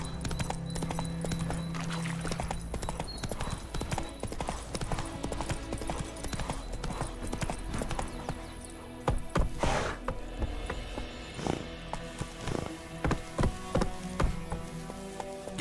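Horse hooves trotting in The Witcher 3 video game, a steady close clip-clop rhythm running throughout with tack and ambient game sounds behind it.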